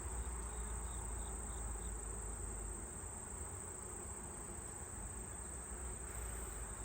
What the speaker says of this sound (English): that's a whole lot of bees.